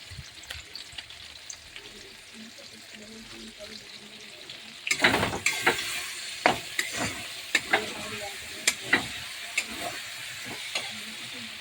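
Spice masala with turmeric sizzles and fries in a pan as cauliflower curry is prepared, faint at first, then louder with repeated sharp stirring scrapes and clacks over a steady hiss.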